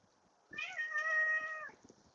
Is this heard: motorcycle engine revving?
no